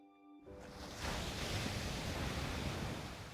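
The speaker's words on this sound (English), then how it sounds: "I hear the sound of the gushing water disappear." Water gushes in the video game My Next Life as a Villainess. The water starts abruptly after a moment of near-silence and swells into a steady, rushing broadband roar that continues alone.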